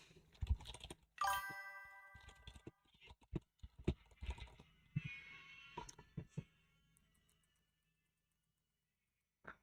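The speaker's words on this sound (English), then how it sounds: "I'm typing so fast" Fast clattering keystrokes on a computer keyboard during a game stream, irregular bursts of clicks and taps with a brief chime early on, fading out before the final quiet seconds.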